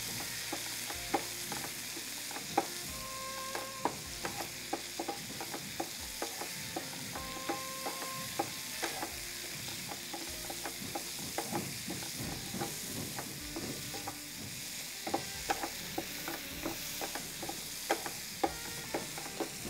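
Tomatoes with turmeric frying in a pan while being stirred, a steady sizzle broken by frequent scraping and clacking strokes of the spoon, close and continuous with no talk.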